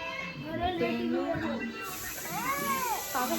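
A cat meows several times in drawn-out, rising and falling cries. People talk in the background.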